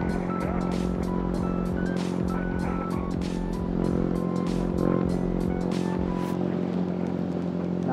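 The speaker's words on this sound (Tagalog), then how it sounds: "Dami ng tricycle." Motorized tricycles pass in busy street traffic, their small engines buzzing and rattling in overlapping waves, with repeated sharp clicks and clatters as vehicles go by close to the listener.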